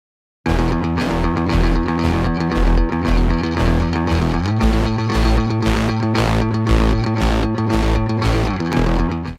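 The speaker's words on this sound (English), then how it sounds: "So those two parts together sound like this" Distorted electric bass, with parallel drive from a Shep 73, layered with a synth bass. Together they play a loud, driving, steady pulsing line that runs unbroken from just after the start to the end, with no voices.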